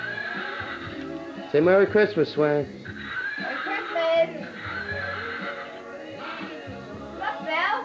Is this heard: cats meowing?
no